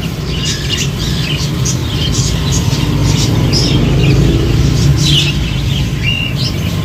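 Pet budgies squawking and chirping while being fed seed mix, a dense chorus of short, close calls over a constant low rumble of engine noise.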